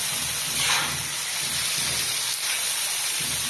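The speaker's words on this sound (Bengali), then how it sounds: "আর এখানে এই দেখো ট্যাংরা মাছ ভাইজে নিচ্ছি।" Tangra fish frying in oil in a home kitchen pan, a steady, loud hissing sizzle that runs unbroken for the whole stretch with no talking.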